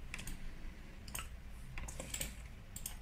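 Soft, quick keypresses on a computer keyboard, a few scattered clicks and short bursts at low volume against a faint steady background hum.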